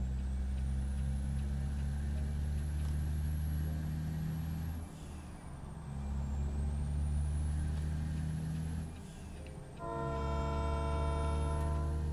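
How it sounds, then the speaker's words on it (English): A modded train horn on a 1,000-horsepower truck in American Truck Simulator: long, loud multi-tone blasts held over a steady engine drone, pausing briefly before a final sustained blast. "I got a train horn, yes."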